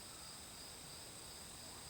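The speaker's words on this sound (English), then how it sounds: "all I can hear is the crickets" Crickets chirp at night as a faint, steady, high-pitched drone with no pauses and no other sounds.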